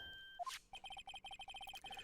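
A phone ringtone from the Phoenix Wright Ace Attorney video game plays the Steel Samurai theme as a bright, rhythmic electronic melody of short repeated beeping notes, after a brief rising chime, fairly faint.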